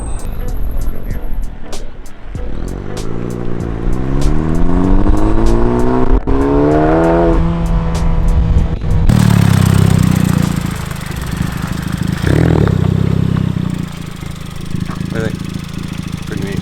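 A carbon fiber bodied, open-wheeled Spectre Motor Works exotic car drives past, loud and close, with its engine revving through rising pitch sweeps before a steady, heavy rumble of engine and wind takes over.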